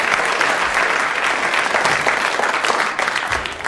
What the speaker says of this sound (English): A round of applause for the 4 gallant members of the audience who came and held a bottle there.